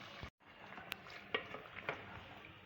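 Chicken masala cooking in a pan, Punjabi style, with onions being stirred: a soft steady sizzle with a few distinct scrapes of the spoon against the pan, including a brief cut near the start.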